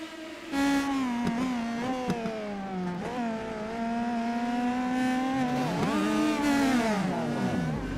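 Race cars in a sim racing video game at Laguna Seca: engines whine loudly and close, pitches sliding down and back up as the cars brake, shift and pass one after another, with no voices.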